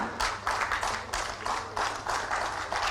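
Applause from an audience at a government award ceremony where appointment letters are handed to athletes, a steady wash of clapping in repeated swells, fairly close and without talk over it.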